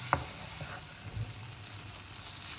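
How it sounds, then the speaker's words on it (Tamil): Kashmiri chili and coriander powder masala sizzles and fries steadily in a pan, with a faint stirring scrape near the start and no talking. "1 spoon வந்து கொத்தமல்லி தூள், இதை நல்லா 1 நிமிஷம் வதக்கிக்கலாம்."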